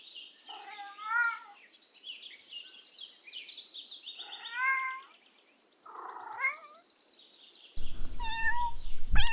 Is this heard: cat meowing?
yes